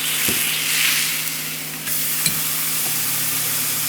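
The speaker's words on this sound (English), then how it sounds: "You still hear that sizzle?" Ribeye steak sizzles and crackles on a hot Himalayan salt block, a steady close frying hiss with a few sharp pops and a brief clunk partway through.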